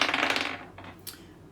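Astrology dice clatter as they are rolled onto a surface, a burst of rattling clicks that settles quickly, followed by a couple of faint taps, close and alone without talk.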